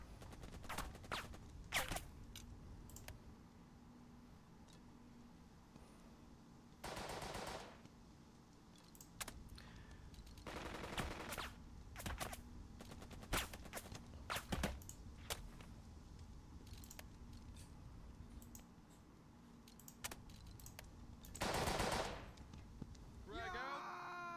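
Bursts of gunfire from the World War II tactics game Burden of Command, fired as recon by fire. Faint, separate volleys come at intervals between quieter stretches.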